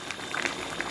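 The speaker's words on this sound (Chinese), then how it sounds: "咱们给它简单咕嘟2、3分钟啊" Beef hooves simmer in a pot of boiling water, giving a soft, continuous bubbling with small scattered pops, faint and close, with no talking.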